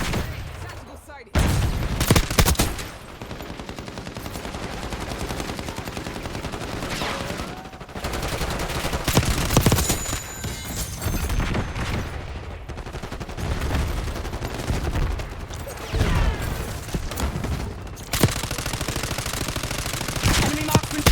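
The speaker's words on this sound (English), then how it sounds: "Enemy marksman shooting." Gunfire in the Call of Duty Black Ops 6 video game, dense rapid automatic bursts and explosive shots rolling almost continuously over a busy game soundscape, with brief pauses between volleys.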